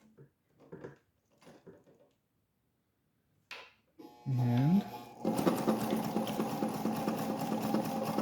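A vintage White Model 764 World's Fair "Fair Lady" sewing machine stitches leather at partial throttle: a motor whine rises, then a loud, steady mechanical run continues to the end, after a stretch of a person talking.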